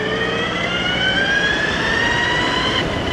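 Modified 72V JackRabbit e-bike pulling away at full throttle, a rising electric motor whine climbing steadily in pitch over rushing wind noise, loud and close with no talk.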